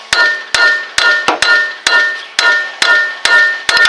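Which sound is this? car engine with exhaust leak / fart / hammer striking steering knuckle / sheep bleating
hammer striking steering knuckle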